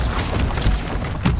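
Bombarda blasting spells in Hogwarts Legacy go off as loud, close booms in quick succession, with crackling debris and bursts of impact noise.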